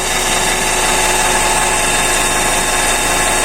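Motor of an electric 3-in-1 car jack running steadily as it lifts a wheel off the ground, a loud constant mechanical whine and hum with no change in pitch or pauses.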